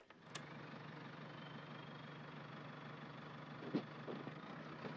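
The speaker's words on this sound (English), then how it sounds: "Listen to this engine, how it purrs." Car engine idling in Dordogne, a faint steady low rumble held evenly throughout, with a couple of soft clicks and a brief knock near the end and no talking.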